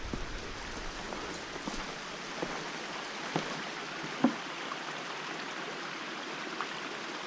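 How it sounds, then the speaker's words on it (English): A steady, broad rush of flowing water from a creek near an abandoned hydraulic gold mine fills the whole stretch, with a few small knocks and splashes. "I can hear the creek."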